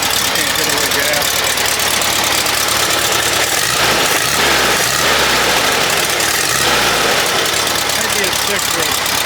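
A freshly repaired engine runs at idle, a loud, steady mechanical rumble with a rough, knocking texture that continues without a break throughout.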